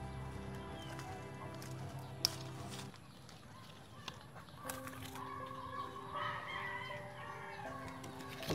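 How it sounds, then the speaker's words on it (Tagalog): Chickens clucking and calling in a yard, a steady flock chorus at moderate loudness with brief sharper calls and no talking over it. "Ang dami pa rin manok nila, oh."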